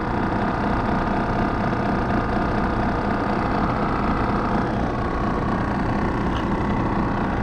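A vacuum pump pulls down an HVAC refrigerant system after the refrigerant has been recovered, during a TXV replacement. It gives a loud, steady, unbroken mechanical drone with no talking.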